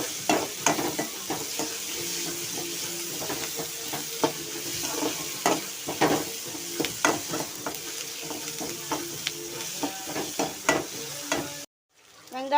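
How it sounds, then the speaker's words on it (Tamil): Onions and drumstick leaves being stirred in a hot pan, a continuous sizzle broken by frequent scraping strokes of the spoon, close and steady, cutting off abruptly near the end. "வெந்துருச்சான்னு எடுத்து ஒரு தடவை எடுத்து கிண்டி விட்டுட்டு"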